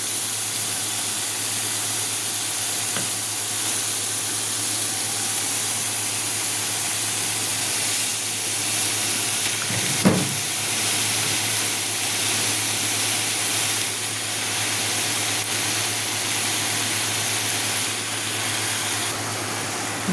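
Bottle gourd going into a pan of frying pumpkin curry with prawns, giving a steady hissing sizzle throughout with a brief clatter near the middle and a constant low hum underneath.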